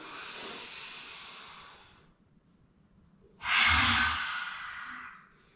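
A deep exhale during a yoga breathing exercise, heard as two long airy breaths: a steady one fading after about two seconds, then a stronger, closer rush of breath that tapers off slowly, with no talking.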